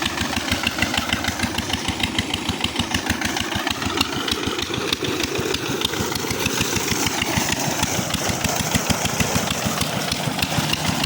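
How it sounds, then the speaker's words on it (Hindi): A feeder engine runs nearby with a steady, loud chugging drone that keeps a regular pulse from start to finish. "ये फीडर इंजन है और यही चल रहा है।"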